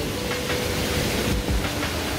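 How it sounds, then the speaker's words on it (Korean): Water in a mountain valley stream rushes steadily beside a gravel path, a dense, constant broadband roar that fills the whole moment without pause. "물소리가 울음칩니다"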